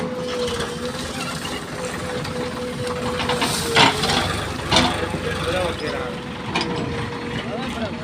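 A tractor engine working under load gives a continuous mechanical drone with a steady tone and a few sharp knocks and clanks, while people talk over it.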